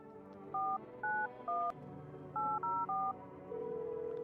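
A phone number is dialed in the video game No, I'm Not a Human: six crisp touch-tone beeps in two quick groups of three, followed by a steady dial tone.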